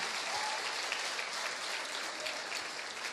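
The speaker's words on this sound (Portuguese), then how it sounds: "Gostaria de receber com forte aplauso ao Senhor a minha querida" Church congregation at an evening prayer service applauds warmly, a soft, even wash of clapping heard from some distance, steady for a few seconds.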